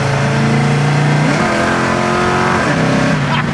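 A 1970 Chevy Camaro accelerating hard, its engine loud and close as the revs climb, dip at a gear change and climb again, with a brief tyre chirp as it shifts up.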